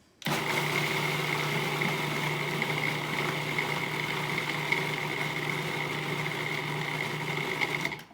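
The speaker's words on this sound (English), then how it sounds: "we're going to go ahead and puree our hummus now and turn it into something creamy and delicious" A food processor purees chickpeas into hummus, a steady whirring motor hum with a constant buzzing tone that starts abruptly, runs evenly close by for several seconds and then cuts off.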